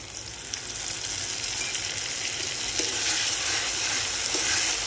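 Ginger, cumin and turmeric paste frying in a pan gives a loud, steady, dense sizzle for several seconds, close by, with no talking.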